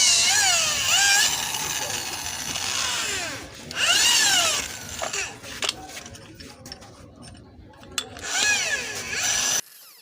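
A power drill with a 14 mm bit bores into a stripped bolt hole, its motor whining up and down in several bursts with pauses between, close and fairly loud.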